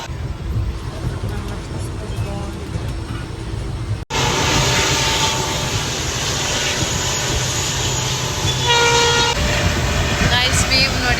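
A passenger train bound for Hassan rumbles along in a loud, continuous roar heard from inside a carriage, with an abrupt break partway through and a horn sounding amid the running noise.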